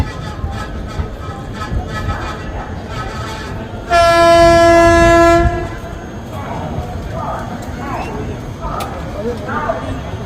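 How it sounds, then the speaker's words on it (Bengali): The Maa Tara Express pulls into Naihati Junction with a continuous rumble of the moving train and one loud, sustained horn blast lasting about a second and a half. "আমাদের ট্রেনের প্রথম হল্ট স্টপেজ এলো নৈহাটি জাংশন।"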